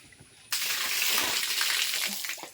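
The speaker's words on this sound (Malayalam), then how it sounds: "ബക്കറ്റ് ഇവിടെ വെള്ളം വീഴുന്നതാണ്" After a quiet moment, water suddenly gushes and splashes loudly into a bucket, a sustained rushing pour that stays strong until the end.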